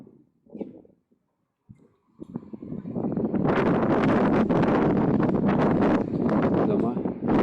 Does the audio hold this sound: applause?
no